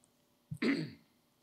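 A single close throat clearing, a short rough rasp preceded by a tiny catch, in an otherwise quiet room.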